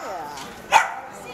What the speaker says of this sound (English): You've got a perfectly trained dog.